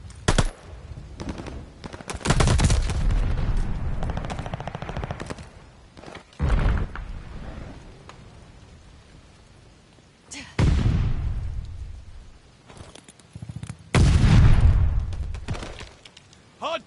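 Heavy gunfire in a video game hardpoint match: loud, close machine-gun bursts and rapid shots come in several waves, separated by quieter gaps with lighter distant fire.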